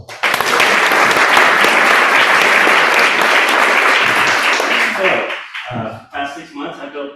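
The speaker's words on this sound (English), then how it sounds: "Let's give him a round of applause." An audience at a startup show-and-tell event claps loudly for an incoming speaker, a dense burst of applause that thins into scattered claps and brief voices near the end.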